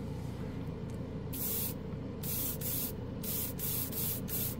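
Gold spray paint hisses from a can in short bursts, about six sprays of varying length with gaps between, close up over a low background rumble.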